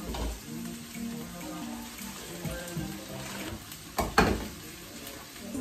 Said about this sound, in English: I'm just like basically frying up my vegetables.